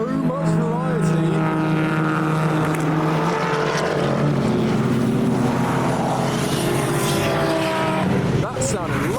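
Modified Nissan Skyline R33 drifting past at a car event, its loud engine revving and wailing near and steady, with someone talking over it throughout.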